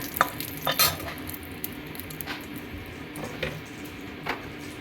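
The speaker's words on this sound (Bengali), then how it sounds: "কয়েকটা শুকনো লঙ্কা আমি কেটে এতে দিয়ে দিলাম দিয়ে এটাকে ভালো করে একটু ভেজে নেব" Steady close sizzling of chopped dried red chillies frying in hot oil, with occasional stirring scrapes and clinks over the crackle.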